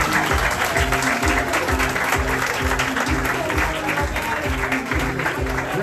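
Audience applauding a school contestant at a junior tourism ambassador pageant: sustained, dense clapping from a large crowd, steady and loud with a faint rhythmic beat under it.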